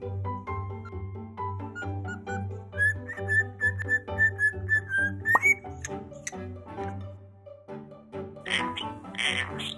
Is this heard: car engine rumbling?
no